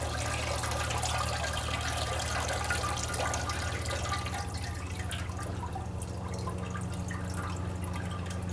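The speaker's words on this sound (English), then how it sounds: "let all the water drain" Water drains steadily from a turkey fryer pot filled to just past the top with a garden hose, a continuous wet trickle and splashing heard up close over low hum, with no talking.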